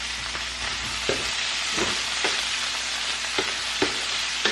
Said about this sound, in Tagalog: Para while paluto-luto tayo sa sausage, niluluto din natin ang itong paprika